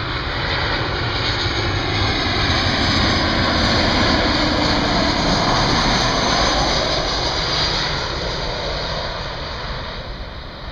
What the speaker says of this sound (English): Nope, that's a different aircraft.